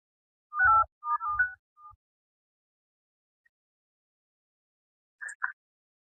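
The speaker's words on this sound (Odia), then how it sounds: "ହଁ ଫୋନ କରୁଛୁ" Outgoing phone call ringing back in a quiet setting, a few short electronic ring tones in a burst, a pause of near silence, then two more brief tones, with no talk.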